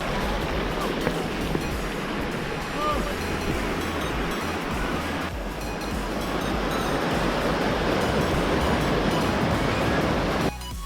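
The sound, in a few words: waterfall flowing into a pool on a hill path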